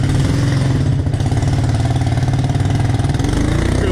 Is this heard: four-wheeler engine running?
yes